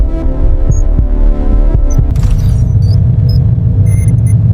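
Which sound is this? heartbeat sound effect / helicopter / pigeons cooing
heartbeat sound effect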